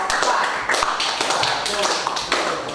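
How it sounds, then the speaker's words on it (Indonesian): Students in a classroom clap for a presenting group, scattered hand claps and taps running steadily under nearby voices. "kalau cukup kita beri aplaus, tepuk tangan buat kelompok 4"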